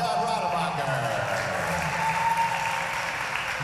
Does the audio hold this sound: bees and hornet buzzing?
no